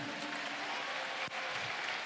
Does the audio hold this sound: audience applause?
yes